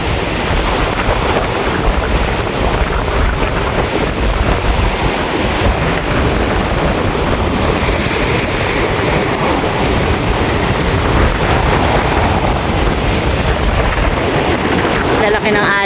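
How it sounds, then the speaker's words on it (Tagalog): Strong wind buffets the microphone at a beach while large ocean waves crash and roll continuously, a loud, rough, unbroken roar for the whole stretch. "Lalaki ng alon."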